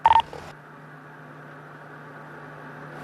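A county jail phone call connects with a few short, loud electronic tone beeps, followed by a steady, faint line hum.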